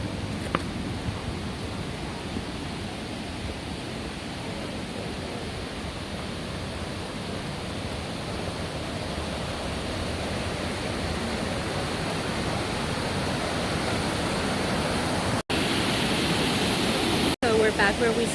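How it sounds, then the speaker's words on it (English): Water rushes steadily through a small creek on a Los Angeles hiking trail, a dense, continuous broadband wash heard up close that holds level from start to end, with two abrupt brief dropouts near the end. "This was the hardest little creek we had to pass through."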